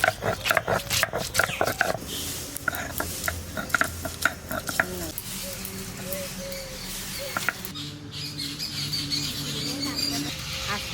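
Garlic is ground with a little water on a stone, wet rhythmic scraping and knocking strokes, loud at first and then softer, with a voice talking and birds chirping faintly in the background.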